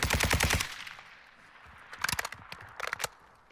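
Automatic gunfire in the video game Warzone 2, a rapid loud burst of shots at the start followed by scattered single cracks and short volleys, with quiet stretches between.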